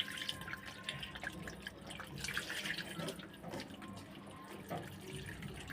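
Water pours into a cooking pot holding buffalo meat, a faint steady trickling and splashing flow with small drips, heard quietly and without talk.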